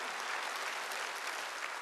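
An audience at a church worship service claps together in a dense, steady burst of applause that runs throughout, fairly faint and distant.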